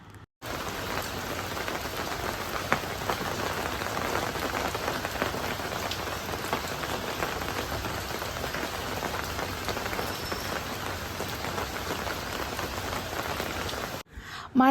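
Steady rain pours down on a rainy evening, a dense, even patter of drops on surfaces that continues unbroken for about fourteen seconds with no talking.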